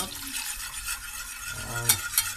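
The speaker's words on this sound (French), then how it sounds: "on va rajouter les 30 centilitres de lait. Voilà, et on va mélanger comme ça." Milk is stirred into a cheese soufflé base in a pan, a short close burst of scraping and gentle bubbling with two quick clinks near the end.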